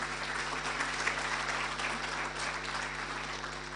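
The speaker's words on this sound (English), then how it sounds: "Another round of applause for her." Conference audience applauding steadily, a dense wash of clapping hands that holds at an even level throughout with no talk over it.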